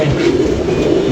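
Pet pigeons coo steadily nearby, a low, continuous murmuring throat sound, with a voice faintly mixed in.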